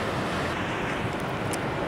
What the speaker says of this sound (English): Don't know if anybody else finds crashing waves as therapeutic as I do.